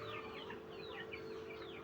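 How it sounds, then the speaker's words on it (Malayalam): Several chickens clucking while running in to peck at feed, a faint, continuous chorus of short clucks and calls with no talking. "അപ്പോൾ മിക്ക കോഴികളും തീറ്റ കൊത്തി തിന്നാനായിട്ട് ഓടി വരുന്നുണ്ട്."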